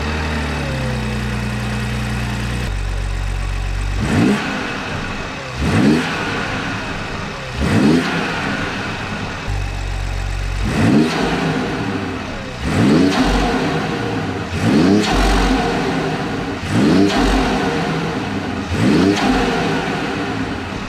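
BMW 540i xDrive fitted with a BMS Performance intake, revved repeatedly from idle in about eight loud, sharp blips spaced a couple of seconds apart, each rising and falling back to a steady idle, with no talking.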